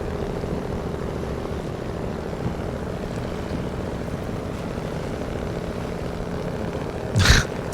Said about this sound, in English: Probably hearing this engine, yeah.